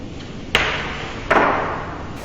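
Two sharp clacks a moment apart as a carrom striker hits the center coin, which then knocks into a pocket, each impact crisp and close with a short ringing decay on a wooden board.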